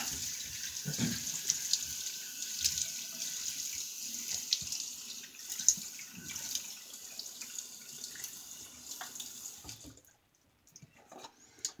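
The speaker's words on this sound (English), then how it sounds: "Let's go ahead and wet the face and start loading the brush." A bathroom tap runs steadily into a sink while hands splash water onto the face before shaving, a continuous close gush with small splashes, then cut off near the end leaving a few faint drips.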